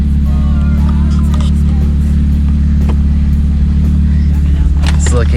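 A 2016-2018 Camaro V6 engine with a newly installed cold air intake idles steadily up close with a deep, even rumble that never lets up. Faint voices can be heard in the background.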